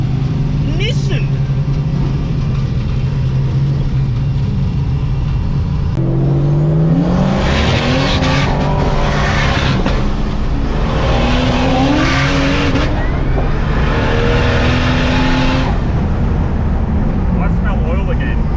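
A car engine at a Powercruise event drones steadily, then revs and whines up and down through gear changes, loud and close, with road and wind noise throughout.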